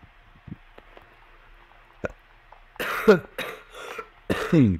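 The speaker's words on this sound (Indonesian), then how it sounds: "memang batuk karena saya lagi batuk" Several harsh, close coughs in quick succession from a person with a cough, following a few quiet clicks and small mouth sounds, loud against an otherwise quiet background.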